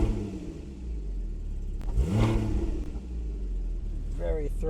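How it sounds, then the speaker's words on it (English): A 2016 Porsche Boxster Black Edition engine revs up once with a deep, throaty exhaust rise and fall, heard close, with a voice briefly at the end. "Very throaty sound from the exhaust."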